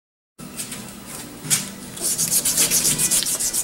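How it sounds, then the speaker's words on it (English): Wet sanding on a restored 1963 Ford Falcon steering wheel, a steady rubbing rasp that quickens into rapid, regular back-and-forth strokes, close and fairly loud with no talking. "More wet sanding."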